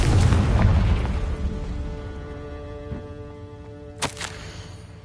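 A Confringo blasting spell explodes in Hogwarts Legacy on PS5, a loud, deep boom that rolls off slowly, followed a few seconds later by a pair of sharp, crackling pops.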